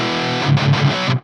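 An electric guitar through a Marshall Satriani JVM amp on the OD orange channel with boost gives a distorted overdriven tone, a short held chord with a few picked notes, loud and close.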